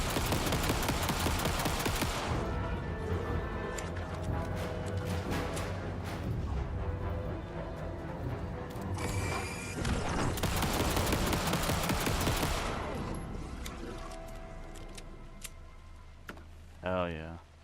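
Rapid pistol gunfire in Alan Wake 2, loud repeated shots in dense bursts with pauses, then a final ringing sweep, while someone talks over the shooting.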